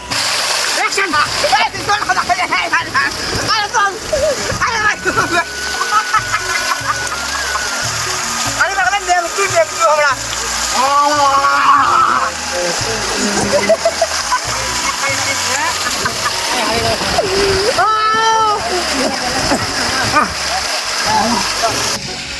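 Water splashing during an outdoor bath in an open field, repeated pours and splashes close by, with chickens clucking nearby and people talking throughout.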